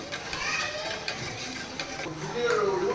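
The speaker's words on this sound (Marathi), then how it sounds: "याला सारखं चम्मचच्या सहाय्याने आपल्याला हलवायचं आहे" A spoon stirring a milk and cornflour ice cream mixture heating in a pan, soft repeated scraping strokes over a faint background hiss, close but quiet, with distant voices in the background.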